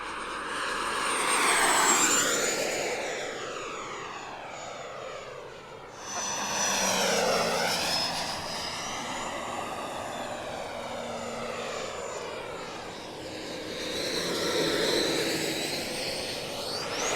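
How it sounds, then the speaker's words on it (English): A small electric ducted-fan jet whines overhead, its high turbine pitch sweeping up and down as it makes several passes near and far. "the authentic sound that EDF provides. Just listen to this."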